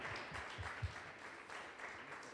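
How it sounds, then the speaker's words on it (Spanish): Church congregation gives a round of applause for the teachers, a faint, even patter of many hands clapping in a large room. "Un fuerte aplauso para los profes."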